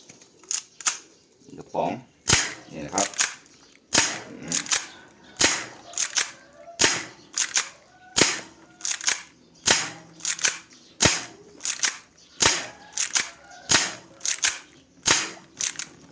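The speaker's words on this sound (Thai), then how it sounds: "เดี๋ยวลองไปเทสยิงกันนะครับผม" A silver Taiwanese spring airsoft Colt 1911 MK IV Series 80 pistol is test fired in a steady string of about twenty sharp, loud cracks, each roughly a second apart, with a voice heard early on.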